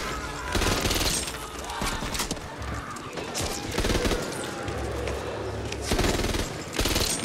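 Sustained machine gun fire in the video game Back 4 Blood, a dense rapid stream of shots in bursts that runs almost unbroken over noisy game action.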